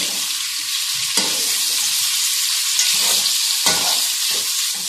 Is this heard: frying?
yes